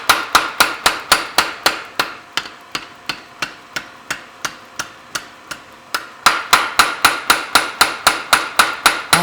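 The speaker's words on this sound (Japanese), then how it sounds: "必要な長さまで叩いて伸ばすのだ。" A blacksmith hammers hot steel to draw out a pair of kogatana knives, a steady run of loud, ringing hammer blows about two or three per second, close and alone, briefly slowing and softening in the middle.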